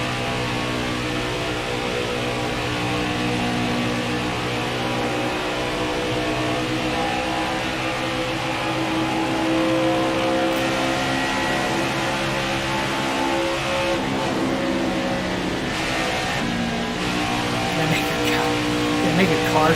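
Race truck engines from the video game NASCAR Heat 5 drone in a steady, loud, continuous whine at a Las Vegas truck race, with shifting pitch and a person talking over them.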